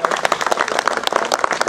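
Small, brief round of hand clapping from a modest crowd at the prize-giving of a Method feeder fishing competition, dense and steady for under two seconds with no talk over it.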